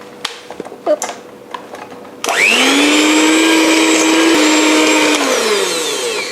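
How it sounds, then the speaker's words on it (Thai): Electric stand mixer beating butter at medium speed for stained glass cookies, a loud steady whirring drone that starts abruptly after a few faint clicks and holds evenly to the end. "ตีเนยให้ขึ้นฟูเลยนะคะ ด้วยความเร็วปานกลางเหมือนเดิมค่ะ"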